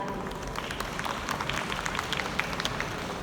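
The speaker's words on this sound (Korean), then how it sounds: "여러분 큰 박수 부탁드리겠습니다." An audience at a carbon-neutrality forum during Eco Fair Korea 2022 applauds continuously, a dense wash of many hands clapping at an even level throughout with no talking.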